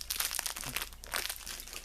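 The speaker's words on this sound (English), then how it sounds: "And then we're peeling back the wrapper." A plastic wrapper on a Twinkie-style snack cake crinkles as it is peeled open, giving a close, continuous crackling rustle with small irregular bursts of crunchy texture.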